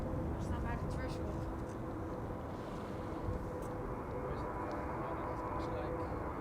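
A Finnair Airbus A321 airliner rolls along the runway at Amsterdam Schiphol, giving a steady, loud broadband engine roar that stays constant throughout, with people talking over it.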